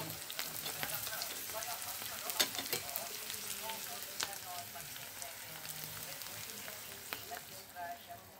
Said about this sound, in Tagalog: So guys, lalagay ko na yung itlog.